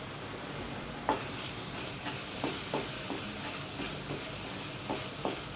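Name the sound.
chilli powder and masala roasting in a pan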